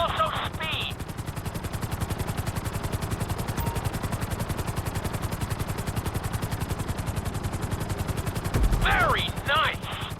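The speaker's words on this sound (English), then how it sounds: "we'll see how well you handle the chopper" A helicopter flown through a flight-school course in GTA 5 gives a loud, steady, rapid rotor chop throughout, with short game sounds at the start and near the end.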